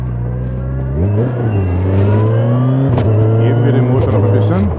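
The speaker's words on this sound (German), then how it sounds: "Geben wir den Motor noch ein bisschen." A Kawasaki Ninja 1000SX sport-touring motorcycle engine revs up steadily at close range, its pitch climbing through several gear-like steps on the road, with a voice talking over the engine throughout.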